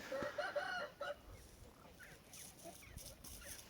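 Chickens and roosters in a coop cluck loudly and close in the first second, including an Arabian hen's line, then quieter scattered clucks and rustling continue.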